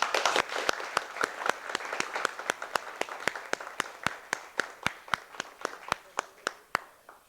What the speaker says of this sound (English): so ladies and gentlemen, can I have a round of applause?